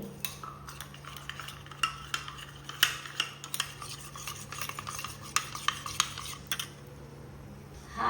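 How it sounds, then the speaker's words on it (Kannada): A spoon stirring custard powder into milk heating in a pot, close and fairly quiet: irregular clinks and scrapes of metal against the vessel over a steady low hum. "ಈ ಹಾಲಿಗೆ ಹಾಕಿ ನಾನು ಚೆನ್ನಾಗಿ ಕಲಸುವ ಗಂಟಿಲ್ಲದ ಹಾಗೆ"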